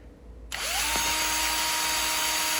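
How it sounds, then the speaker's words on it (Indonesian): A Bosch GSB 120-Li cordless impact drill switches on in gear 2 after a moment of quiet, spinning up with a quick rising whine and then holding a steady, loud motor hum up close. "Selanjutnya kita akan coba menggunakan gear 2."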